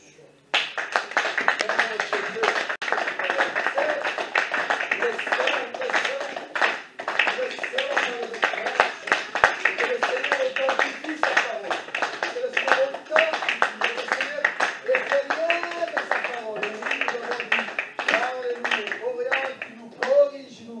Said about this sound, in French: Nous voulons sceller cette parole par nos acclamations